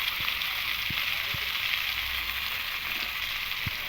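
Taro leaves and turmeric frying in oil in a pan, a steady bright sizzle with occasional soft clicks of stirring, close and alone.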